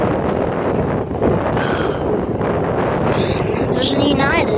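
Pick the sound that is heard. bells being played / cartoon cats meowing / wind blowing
wind blowing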